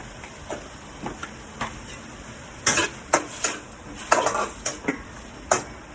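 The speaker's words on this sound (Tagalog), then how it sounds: "lagay ko guys yung karne para maging crispy at saka para magmantika" Meat cooking in a pan until crispy, dominated by loud metal spoon-on-pan scrapes and clanks in irregular bursts over a faint background sizzle.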